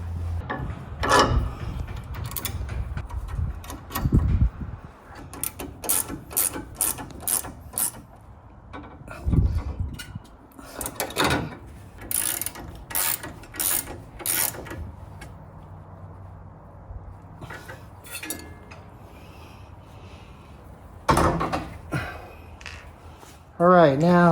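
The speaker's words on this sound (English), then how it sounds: "a 19mm gear wrench is needed for this" A 19mm gear wrench ratchets on nuts during a lift kit install on a Jeep Wrangler JL, giving bursts of rapid clicking and rasping metal across the clip, with speech and other handling noises in between.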